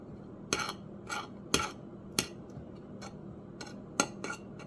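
Bacon being turned over in a skillet, giving a series of sharp metallic clinks and taps from utensil on pan, spaced irregularly, fairly close and with no talking.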